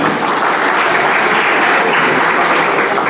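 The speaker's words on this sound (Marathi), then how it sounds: "त्यांच्या टीमसाठी एकदा जोरदार टाळ्या उमटवल्या" Audience at an award ceremony applauding loudly and continuously, a dense steady roar of clapping close by with no pauses.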